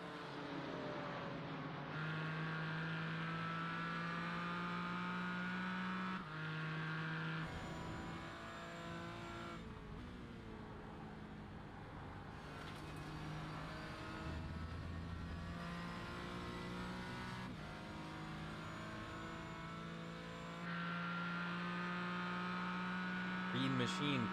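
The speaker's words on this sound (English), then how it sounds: "These GT4 cars have always put on a good show in this league." GT4 race cars lapping Summit Point in a sim racing game, a steady engine drone with sustained tonal whine and shifting revs running continuously throughout.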